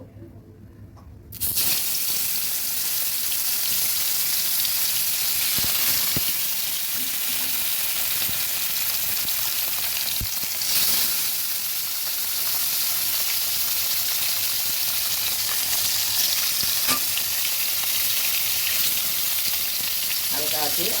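Koi fish fry in hot oil over lowered heat, giving a loud, continuous sizzle with crackling and hiss that starts abruptly and holds steady throughout.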